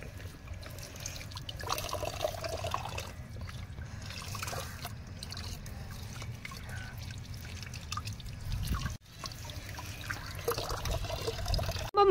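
Freshly harvested taro roots from a rooftop garden being washed by hand, with steady pouring and splashing water running continuously at low level, briefly pausing once before resuming.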